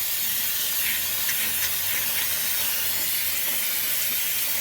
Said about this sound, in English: I'm gonna go ahead and just douse this with brake clean.